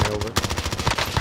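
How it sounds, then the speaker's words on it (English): Rapid automatic gunfire in the video game Warzone, a loud close burst of repeated shots with a short pause before it resumes at a steady clatter. "See, someone else shot at me."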